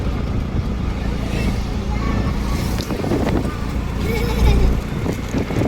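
A motorized tricycle, a Filipino buko-buko model, rides along with a steady engine rumble, wind buffeting the microphone, and people talking over the noise.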